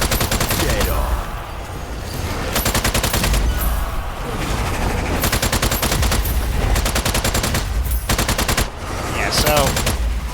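Loud, rapid SMG bursts crackle in the Strange Brigade game, several long strings of fire broken by short pauses, close and dominant throughout.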